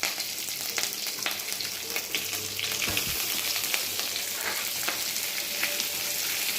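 Tomatoes go into onions, curry leaves and coriander frying in a pan for chow chow kootu, giving a loud, steady sizzle with faint stirring scrapes throughout and no voices.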